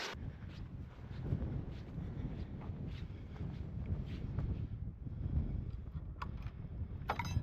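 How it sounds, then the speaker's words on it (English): Wind picks up outdoors on an open hillside trail in the Yorkshire Dales, a continuous low rumble and buffeting against the microphone with gusty swells and no talking. "That wind's picking up"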